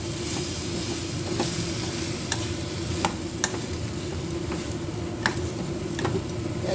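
Bitter gourd pieces sautéing in a pan with masala, onion and curry leaves, giving a steady close sizzle broken by a few sharp ticks and clicks of stirring.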